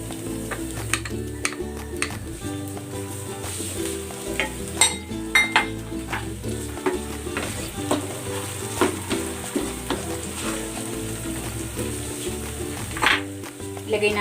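Pork belly sizzles and fries steadily in a pan after oyster sauce goes in, with utensil scrapes and clinks as it is stirred, and a voice speaking faintly underneath.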